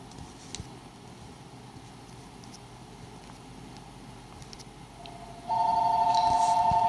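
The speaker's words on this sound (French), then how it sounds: "c'est un téléphone qui sonne" A telephone rings during a game of Clash Royale, a steady electronic ringing tone that starts abruptly near the end and stays loud over a low background hum.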